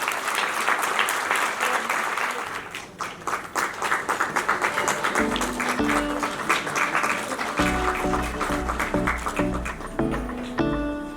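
Loud, sustained applause from an audience welcoming an award recipient onto the stage at a Zonta Yellow Rose Day event, with musical tones rising underneath partway through.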